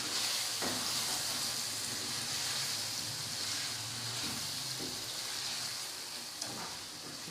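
Chicken for Patiala murgh sizzles steadily in oil over a medium flame, a continuous bright hiss with a few soft stirring knocks throughout, close and fairly loud.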